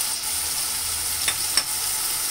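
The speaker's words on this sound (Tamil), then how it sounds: "இஞ்சி பூண்டு பேஸ்ட்டு கருவேப்பிலை சேர்த்து வதக்கிக்கலாம்" Onion, tomato, ginger-garlic paste and curry leaves sautéing in a pan for a Tamil mutton liver fry, a steady close sizzle with two brief stirring scrapes and no talk.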